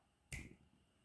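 A single crisp finger snap, sharp and close, followed by a brief fading ring in an otherwise quiet room.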